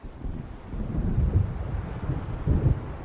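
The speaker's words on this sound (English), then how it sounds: "It seems there's a storm coming." Low, rumbling thunder rolls through a stormy scene in Alan Wake Remastered, with wind gusts and rain beneath; two heavier swells of rumble rise near the middle and end, steady and moderately loud with no talking.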